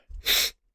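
A single sharp human sneeze, close and loud, with a short intake of breath just before it and silence after.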